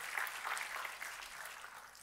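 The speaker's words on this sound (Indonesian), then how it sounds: "Tepuk tangannya boleh yang paling meriah buat Tuhan kita." A church congregation applauds during a sermon, a steady, fairly faint wash of clapping lasting a couple of seconds with no voices over it.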